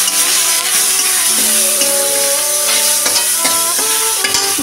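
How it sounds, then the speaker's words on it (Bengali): Prawns, seasoned with salt and turmeric, fry lightly in oil in a wok with a loud, steady, close-up sizzle, while faint tonal ringing runs beneath and no one talks. "এবার চিংড়ি মাছগুলোকে আমি হালকা করে ভেজে নেব।"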